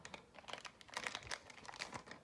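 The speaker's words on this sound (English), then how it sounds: "Tear the seal" The foil seal of a Pokémon trading card pack torn open up close, with quiet crinkling and ripping in short bursts and no voices.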